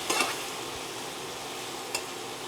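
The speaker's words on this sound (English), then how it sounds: "I'm going to add my 1 cup of spinach to here. I'm gonna give that a nice saute." Spinach sautéing in a hot pan, an even, close sizzle running throughout, with a brief utensil scrape at the start and another near the end, and no talking.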